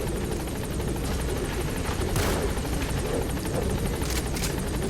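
A helicopter hovers overhead in Metal Gear Solid 5, its rotor giving a steady, loud, dense whir that fills the whole stretch without letup.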